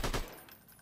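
Gunfire in the Attack of Mutants video game, aimed at a barrel: a single short, loud burst at the start that quickly decays into a faint tail.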